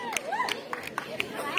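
Sharp scattered claps from a crowd at a women's kabaddi match, a few hand strikes breaking through over a commentator's voice and general crowd noise.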